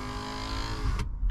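Electric window motor in the door of a Range Rover Sport L320 runs as a steady, close mechanical whine, ending in a short thud as the glass stops. No talking.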